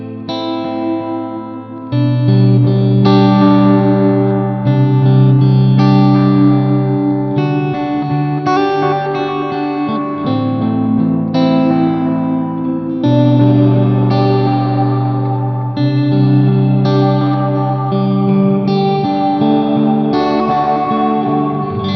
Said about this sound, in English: that preset is called Chorale, and what it does is it adds different vowel sounds to the reverb